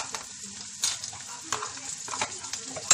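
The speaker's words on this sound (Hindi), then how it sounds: "फिर डालेंगे ये कटे हुए प्याज, अब प्याज को फ्राई करना है, थोड़ा सा अदरक और लहसुन का पेस्ट" Chopped onions fry with ginger-garlic paste in a hot pan, a steady crackling sizzle broken by scraping stirs of a spoon, close and fairly loud with no talking.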